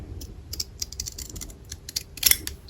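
Paper being cut with a pair of scissors while making red, white and blue craft cards: a close, quiet run of crisp clicking snips, uneven in rhythm, with one sharper cluster near the end.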